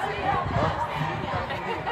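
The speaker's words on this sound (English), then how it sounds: "Look at this beautiful crowd." Crowd at a march for reproductive freedom in Alabama, a dense murmur of many overlapping voices chattering close by.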